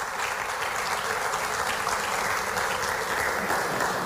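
A crowd gives a strong, sustained round of applause for civil aeronautics staff at a public event, an even, continuous clapping texture heard from a little distance with no speech over it.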